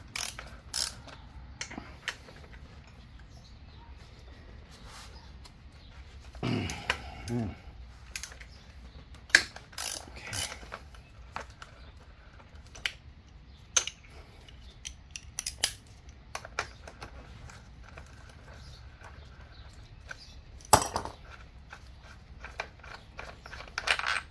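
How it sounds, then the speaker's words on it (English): A ratchet with a 5/16 Allen socket works loose the lifter bolts on a Sportster motorcycle, giving sparse, sharp metallic clicks and a short rasping run of ratchet pawls, close by in a quiet workshop. "Now we're gonna remove these other 2. Oh, sorry, 5/16 Allen"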